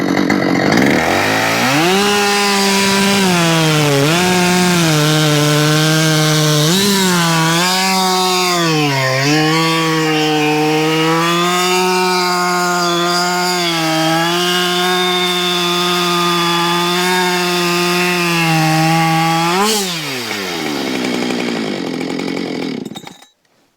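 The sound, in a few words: new Husqvarna chainsaw cutting through wood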